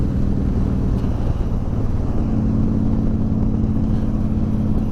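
A 2011 Honda VT1300 Fury cruiser rumbles in fifth gear, its low, steady V-twin engine drone mixed with wind buffeting, loud and continuous for a few seconds.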